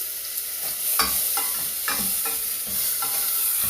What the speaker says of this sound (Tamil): இப்போ தக்காளியும் கருவேப்பிலையும் நல்லா வதங்கிட்டு இருக்கு.